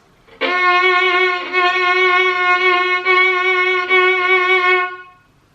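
A single sustained violin tone with a wobbly, irregular vibrato, its pitch wavering unevenly across several bowed strokes before fading out.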